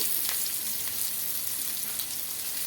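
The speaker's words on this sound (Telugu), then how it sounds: "కడాయి పెట్టేసుకొని ఆయిల్ కూడా వేసేసుకున్నానండి ఆయిల్ కూడా హీట్ అయింది ముందుగా కట్ చేసి పెట్టుకున్న ఉల్లిపాయలు" Chopped onions frying in heated oil in a kadai, a dense, even hiss of sizzling close up with faint crackles, no talking.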